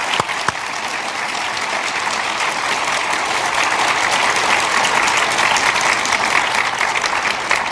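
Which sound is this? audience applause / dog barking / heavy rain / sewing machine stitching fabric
audience applause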